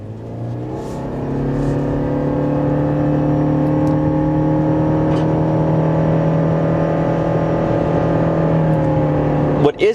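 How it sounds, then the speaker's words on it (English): A 2025 Subaru Forester hybrid 4-cylinder pulls onto the highway, its engine drone building steadily and holding a loud, sustained tone heard from inside the cabin. "We're going to get on the highway here and see what this engine is capable of."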